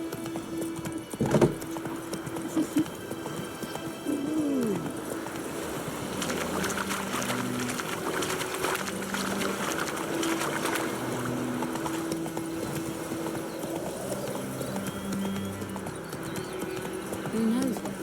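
A horse's hooves in the video game The Witcher 3 keep up a steady, rhythmic clip-clop at a close, even level over the game's background ambience.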